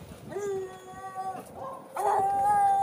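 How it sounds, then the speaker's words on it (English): Dogs at a home where a 2001 Club Car DS golf cart is being repaired howl in long, rising tones, one howl breaking off and a second, louder one starting and holding, fairly close. "Excuse my dogs."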